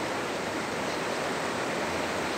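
The Guatapurí river flows strongly through a channel half filled with dumped rubble, a steady, dense rush of water that stays even and continuous throughout.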